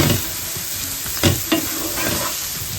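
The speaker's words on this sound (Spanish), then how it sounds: "Vamos a sofreír primero un poquito esto para que largue bien el sabor" Onion sautéing in a pan for a creamy chicken-and-mushroom pasta, a steady close sizzle with a couple of sharp stirring scrapes and clatters partway through, no voices.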